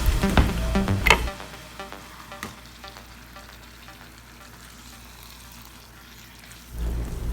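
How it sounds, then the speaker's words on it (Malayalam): Chicken frying in oil with tomato masala for Chettinad chicken fry, crackling sizzle with a few loud stirring scrapes at the start, then a quieter steady fry that picks up again at the end. "അപ്പോൾ മസാലയിൽ നല്ലൊന്ന് വരട്ടി നല്ലൊന്ന് ഫ്രൈ ചെയ്തെടുക്കണം."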